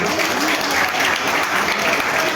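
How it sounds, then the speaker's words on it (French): A political rally crowd applauds itself, a short, loud wash of dense clapping from many people close by, with no voices breaking through. "Applaudissez-vous"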